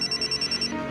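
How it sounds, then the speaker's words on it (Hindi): A telephone rings in a rapid, evenly pulsed electronic trill that repeats about eight times in under a second, loud and close, then cuts off as room tone continues. "जूली का फोन है?"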